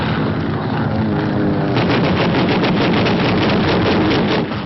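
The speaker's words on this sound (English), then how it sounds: "A Yank task force off Saipan Island in the Marianas attacked by Jap planes by the enemy." Japanese warplanes attack a US Navy task force off Saipan in the Marianas, a dense, continuous roar of gunfire and engines with rapid pulsing bursts of anti-aircraft fire, loud and unbroken throughout, in old newsreel sound.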